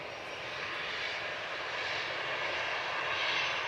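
Eurowings airliner departing Manchester Airport for Düsseldorf, its engines giving a steady, broad roar that swells slightly over a few seconds, heard from a distance with no talk.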